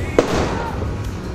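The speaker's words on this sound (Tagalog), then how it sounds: "Narinig niyo yung putokan." Distant New Year's firecrackers and fireworks pop and rumble amid a noisy outdoor street background in the Philippines, with one sharper crack near the start and scattered bangs after.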